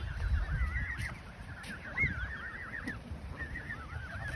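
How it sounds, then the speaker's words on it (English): Goslings honk at a lake in Carolina Beach, a series of wavering, squeaky calls repeating over steady low outdoor rumble, moderately close and with no talking. "goslings. Aren't they pretty?"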